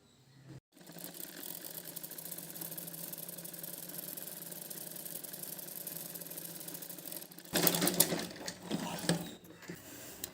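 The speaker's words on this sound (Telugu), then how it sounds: "దీనిపైన నుంచి మళ్ళీ ఇంకొక కుట్టేసుకోవాలండి" A sewing machine stitches a lehenga blouse for a young girl with a steady, fairly quiet mechanical whir lasting several seconds, then stops for louder fabric handling and rustling near the end.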